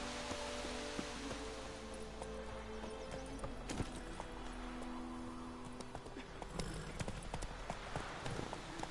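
Horse hooves from Roach, the horse in The Witcher 3 video game, a steady rhythmic clip-clop at walking pace over a constant low ambient bed.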